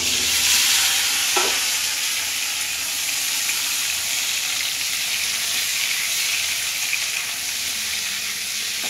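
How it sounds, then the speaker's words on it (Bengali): Jackfruit pieces frying in a pan for a jackfruit and prawn curry give off a steady, loud sizzle with stirring scrapes throughout, and a single sharp clink comes early on. "এবার আমি কাঁঠালটা ভাজবো।"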